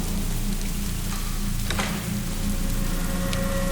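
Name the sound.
heavy rain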